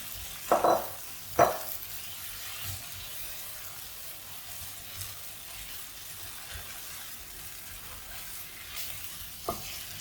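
Potato and cauliflower pieces frying in masala, a steady close sizzle broken by a few sharp stirring scrapes and clinks against the pan near the start and end.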